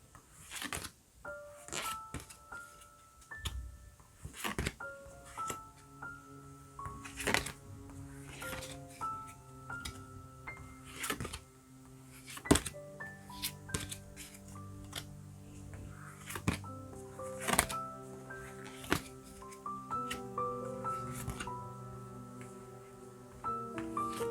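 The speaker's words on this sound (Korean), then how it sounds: "세 장씩 뽑겠습니다." Tarot cards being drawn three at a time, with a run of soft shuffles, flicks and taps of the cards set over a quiet musical background.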